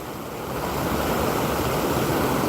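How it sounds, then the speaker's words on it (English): A river rushes with a loud, steady roar of churning water that swells slightly and fills the whole scene without pause. "I know it's loud. The river is rushing."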